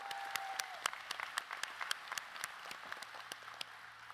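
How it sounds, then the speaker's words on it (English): Applause for a speaker at a Take Stock in Children graduation ceremony, with separate claps spread steadily through the room, fairly faint and distant, against a brief tone early on. "Let's give him another round of applause."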